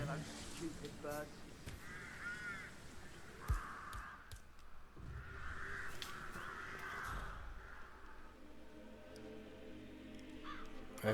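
In Hitman 3's Dartmoor graveyard, several crows give hoarse, repeated caws in bursts over low ambient game noise, with a voice speaking softly at times.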